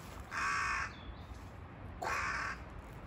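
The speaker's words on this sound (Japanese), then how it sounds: "カラスの声も聞こえるんや。" Two loud crow caws, a short pause between them, standing out clearly over a quiet outdoor background in Ikawadani, Kobe, with no talking.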